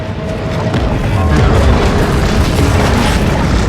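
A torpedo explosion in the shark game Maneater booms loud and close, a dense roaring blast that sustains its rumble without fading.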